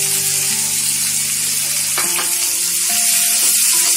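Onions fry in hot oil for Amritsari chhole, a loud, continuous close-up sizzle with faint stirring.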